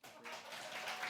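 Applause from an audience at a Sunday school award ceremony as prizes are handed out, a brief, faint, steady wash of clapping.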